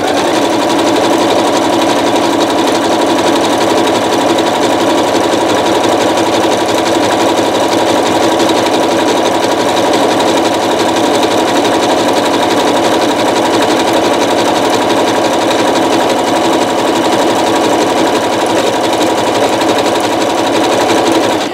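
A Janome Skyline S9 sewing machine stitching rope into a bowl runs continuously at a steady, loud, even hum with a fast rhythmic needle clatter throughout, with no voices.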